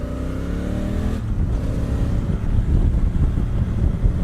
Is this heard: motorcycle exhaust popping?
yes